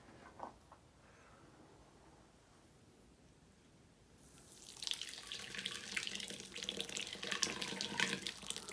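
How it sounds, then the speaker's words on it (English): Plaster being poured carefully in a basement while building a simple backyard foundry: a soft splashing pour that starts about halfway through and continues steadily to the end, close and fairly faint over a quiet room. "pour our plaster in carefully, because this stuff splashes"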